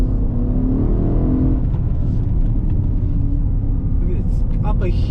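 Mercedes ML63 AMG engine on a hill road, a deep rumbling drone that rises in pitch as it revs on a downshift, steady and close under faint speech.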